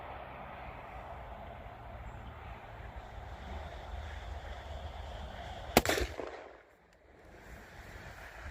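A single loud Mosin Nagant sniper rifle gunshot fired at 50 from a rest outdoors, one sharp crack with a brief echoing tail over steady wind and ambient noise.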